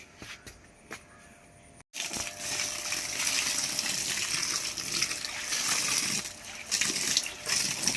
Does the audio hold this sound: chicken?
no